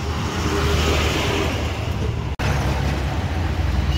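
Andhra Pradesh bus descending the hill road to Tirumala from Tirupati, its engine a steady close rumble over continuous road traffic noise, with a brief dropout partway through.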